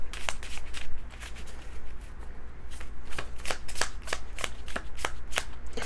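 Tarot card deck being shuffled, a close, steady run of riffling card flicks and slaps repeating quickly throughout, with no talk.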